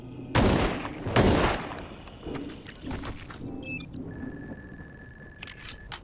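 Gunfire in the indie survival-horror game Ground Zero: two loud, close shots early, then scattered quieter reports and a quick burst of rapid shots near the end.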